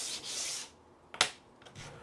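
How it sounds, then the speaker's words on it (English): A small wood piece scraped over adhesive-backed sandpaper stuck to a scrap of plywood, one longer gritty rub followed by a few short, sharp scuffs, close and fairly quiet. "Running it over adhesive back sandpaper stuck to a scrap of plywood."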